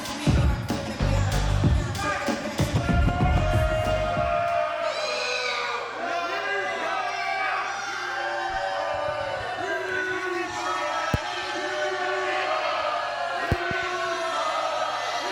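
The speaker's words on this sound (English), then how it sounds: "Crowd definitely showing their displeasure for CFR right now" Pro wrestling crowd at a Super Shogun Wrestling show jeering wrestler CFR, a loud burst of shouting at the start that settles into a steady crowd roar with commentators talking over it.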